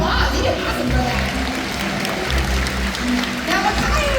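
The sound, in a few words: audience applause at SeaWorld Orlando orca show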